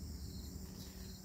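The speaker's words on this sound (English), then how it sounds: "there are crickets chirping somewhere nearby" Crickets chirp steadily somewhere nearby outdoors, a faint continuous high trill running alone through the short stretch.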